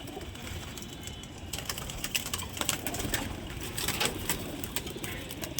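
Loft pigeons, an old-line breed of fancy pigeon, coo softly in a low murmur, mixed with sharp clicking and tapping noises that come in scattered bursts.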